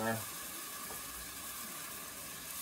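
Broth sizzling in a hot pan for smoked brisket beef stew while the bottom is scraped: a steady hissing sizzle, close and moderate, with a brief scrape near the start.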